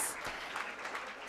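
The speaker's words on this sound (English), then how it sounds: "Please, everyone, round of applause for him." Applause from a crowd at a career seminar, a dense wash of many hands clapping, fairly faint and steady throughout.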